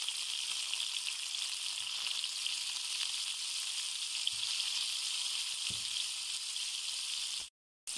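Fava beans fry steadily in hot oil with a constant bright sizzle, faint and unbroken apart from a brief cut near the end.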